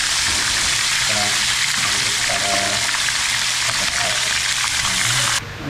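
Steady, loud sizzling of fish frying in hot oil, a continuous crackling hiss with faint background voices, cutting off abruptly near the end.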